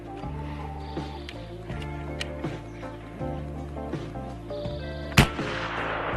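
A single very loud, sharp report from a .30 caliber PCP airgun at a shooting range, standing out once near the end over a steady backdrop of music.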